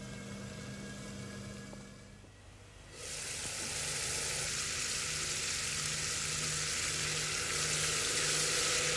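Spice masala with cinnamon fried and stirred in a pan: soft sizzling that dips quietly for a moment, then swells into a loud, dense, continuous frying hiss that builds toward the end, with no talking.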